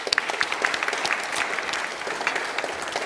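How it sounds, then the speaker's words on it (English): An audience applauds a Green Left Member of Parliament being introduced at a 2022 economics lecture, with steady dense clapping that fills the room throughout and stays at an even level. "Please have an applause for Senna Maatoug."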